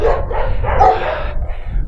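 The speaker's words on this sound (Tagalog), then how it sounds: "Oh, may mga aso rito." Dogs on a Czech farm bark in a loud close burst, a few rough woofs with yipping edges over a windy outdoor background.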